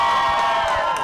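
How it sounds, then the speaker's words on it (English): A crowd cheering and shouting together, a loud, dense burst of many voices sustained without a break. "We have the crowd reaction."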